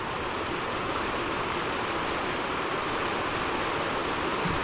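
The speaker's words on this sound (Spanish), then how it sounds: "el desbordamiento del río Paz a la altura de, bueno, pues se puede decir que Garita Chapina aquí en Guatemala" The overflowing Paz river in flood near Garita Chapina, Guatemala, gives a steady, unbroken rushing roar of fast water, constant in level throughout with no voices over it.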